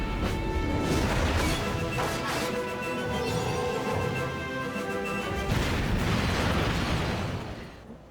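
A loud, sustained explosion from the opening of the video game Ratchet & Clank 2: Going Commando, a dense rumbling crash blended with musical tones that holds for about seven seconds before fading, with no talking.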